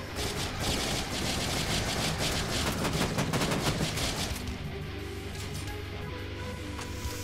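Rapid automatic machine gun fire in the zombie survival game Final Days, a dense loud burst of shots lasting several seconds, then stopping and leaving a low steady hum.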